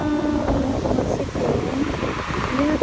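Sea waves wash and splash against the shore at Pandan, Bohol, a steady rushing surf under a continuous wash of wind, with a voice talking over it.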